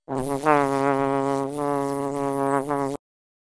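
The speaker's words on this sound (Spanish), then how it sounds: "Avispa." A wasp buzzes in a steady, close, harmonic drone lasting about three seconds, alone, then stops abruptly.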